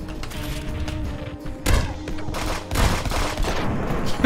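Shotgun blasts in a Fortnite-style shooter game crack out as several loud bursts amid rapid gunfire and thuds, mixed with faint game sounds, close and punchy.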